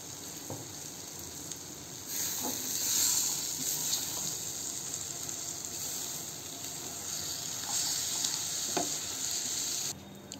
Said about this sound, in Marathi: त्याच्यामध्ये आपण आता चणे घालून घेऊ। हे 2 ते 3 मिनिटं परतवून घ्या।